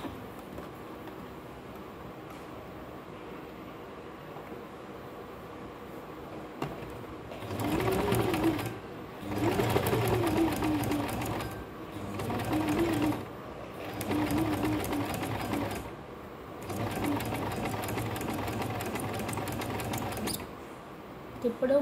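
Sewing machine stitching along a marked line on a kurti neckline, running in several steady bursts of a few seconds each with short pauses between, close and fairly loud, with no talking.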